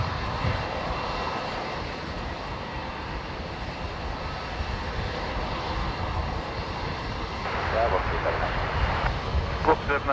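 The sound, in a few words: Singapore Airlines Airbus A350 jet departing Brisbane Airport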